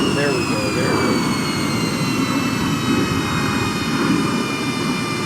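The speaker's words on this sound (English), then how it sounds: "they got the sound of airplanes flying by" Airplanes fly by with a loud, steady jet-engine roar and thin whining tones that hold unbroken for several seconds.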